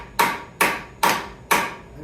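A hammer drives a T30 bit into a fork tube bolt on a Harley Dyna motorcycle: four loud, sharp metallic strikes, evenly spaced about half a second apart, each ringing briefly with nothing else heard.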